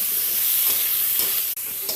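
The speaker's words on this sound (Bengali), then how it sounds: "সবজিগুলো ভেজে নেব আর ভাজা হয়ে গেলে তারপরে আমি পালং শাকটা দিয়ে দেব" Vegetables fry in a pan before spinach goes in, a steady bright sizzle with soft stirring scrapes, close and continuous with no voices.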